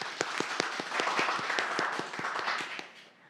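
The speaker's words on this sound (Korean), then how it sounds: "큰 박수로 맞아주십시오" An audience at an academic sociology symposium applauds to welcome a speaker, with steady, evenly paced clapping from a modest crowd that fades out at the end.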